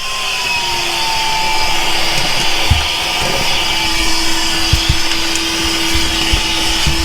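A Milwaukee Fuel Packout 2.5 gallon cordless vacuum runs steadily on its lowest speed setting, a loud, even motor whine and airflow rush with occasional small knocks, close and alone.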